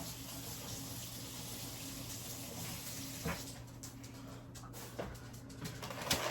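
A kitchen tap runs steadily as egg is washed off someone's hands, making a faint, even hiss of water with a few soft splashes and clinks.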